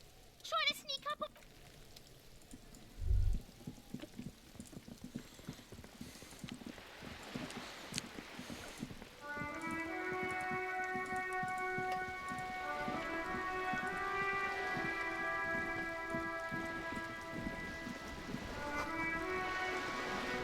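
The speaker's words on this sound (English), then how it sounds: "Why is it always fucking raining?" Steady rain falls in the video game Disco Elysium, a soft continuous patter under a faint bump, then joined partway through by sustained musical tones from the game.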